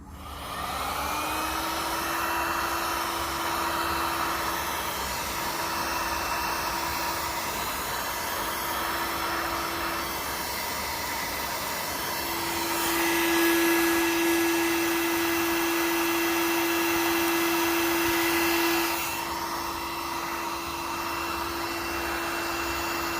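A heat gun blows steadily for over twenty seconds while shrinking heat shrink tubing over crimped alternator wiring on an mk1 wire tuck, a loud continuous whooshing hum close by that swells slightly partway through.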